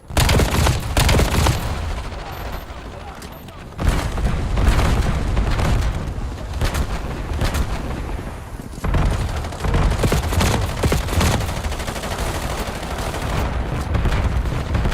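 Grenade explosions and gunfire from a video game form a dense, loud barrage. Booming blasts mix with rapid automatic shooting, and the bursts keep going with brief dips around the quieter moments.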